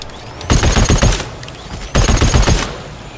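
Two loud, close bursts of rapid machine gun fire in the co-op shooter GTFO, each lasting under a second with a dense, rattling rhythm, separated by a short pause.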